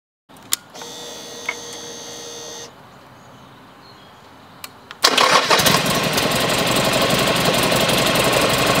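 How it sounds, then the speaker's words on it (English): A Buell XB12R motorcycle engine turns over and catches, then settles into a loud, steady idle with a rough, throbbing rumble, after a few earlier clicks. "since the bike started up really nicely"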